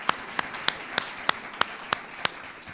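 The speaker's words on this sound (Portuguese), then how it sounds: "Uma salva de palmas a ele pelo que ele fez por nós." A church congregation claps in a steady rhythm, with sharp claps coming about three times a second over a soft room murmur during a Bible study service.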